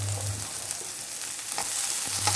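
Mustard seeds, finely chopped garlic and sliced shallots frying in hot oil, giving a steady close crackling sizzle with faint spattering pops throughout.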